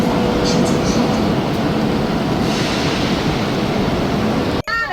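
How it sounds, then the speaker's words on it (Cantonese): Ambience inside Shenzhen's high-speed rail station, a dense, steady wash of broadband noise like passing trains and crowd bustle, ending in a sharp brief click near the end. "而家我哋咧喺一個嘅深圳嘅高鐵站轉車"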